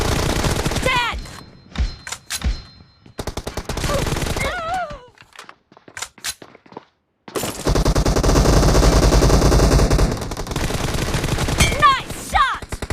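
Rapid automatic gunfire from a shooter video game comes in loud bursts and sustained volleys, interrupted by gaps, game effects and voice callouts, with a heavy continuous stretch of shooting in the second half.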